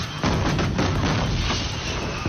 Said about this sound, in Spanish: Este es el momento de la explosión de pirotecnia en Tequisquiapan, en el estado de Querétaro